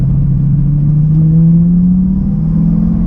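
A 2008 Lamborghini Gallardo engine drones loudly and steadily from inside the cabin while driving, with a low tone that rises slightly in pitch as it pulls.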